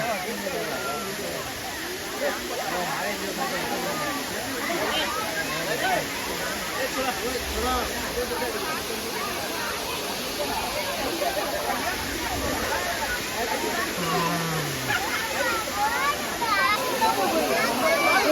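Steady rushing water pours without a break at Kiliyur Falls in Yercaud, flowing lighter than usual, a broad constant wash of noise like a modest waterfall, with faint voices murmuring underneath.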